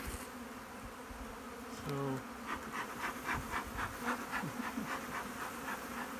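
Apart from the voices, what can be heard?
honey bees buzzing at an open breeder hive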